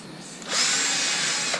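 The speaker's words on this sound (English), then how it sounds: "So what I'm doing instead is drilling a hole through it" A power drill bores a hole through the wall of a 1984 Alpine GL Sprite caravan, starting about half a second in and whining steadily and loudly close up until the end, with no talking.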